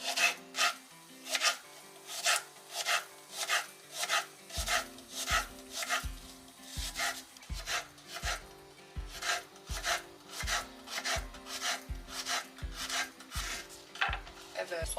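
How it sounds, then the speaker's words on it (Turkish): Rapid, even knife strokes chop an onion on a board up close, a steady rhythmic tapping with no talking. "Soğanı böyle doğrayacağım."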